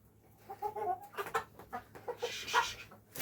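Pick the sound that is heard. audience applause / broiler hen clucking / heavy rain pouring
broiler hen clucking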